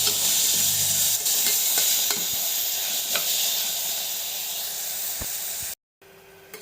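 Ginger garlic paste sautéing in a hot pan for a black chickpea biryani, a steady loud sizzle and hiss with occasional stirring scrapes, cutting off abruptly near the end.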